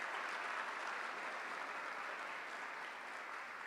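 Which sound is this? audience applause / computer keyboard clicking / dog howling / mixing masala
audience applause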